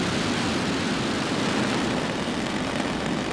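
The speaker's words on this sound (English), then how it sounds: "2, 1, ignition, and liftoff." A SpaceX Falcon rocket lifting off with the Sirius SXM-11 satellite makes a continuous, loud, broadband roar with no breaks or other sounds.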